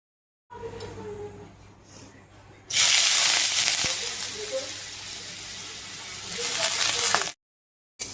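Thinly sliced potatoes drop into hot oil in a pan, turning a low background hum into a loud, steady sizzling hiss that runs for several seconds before cutting off.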